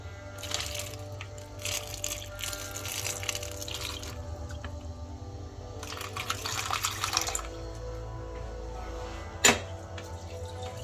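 Water pours in hissy, splashing bursts into an MRE flameless ration heater bag, with a steady low hum underneath and a sharp click near the end.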